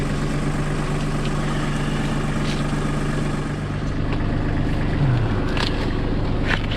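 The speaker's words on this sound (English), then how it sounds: "So we're using the tractor." TC tractor engine running on a farm during corn picking, with a steady, loud low drone and a humming tone that shifts near the end, close by and continuous.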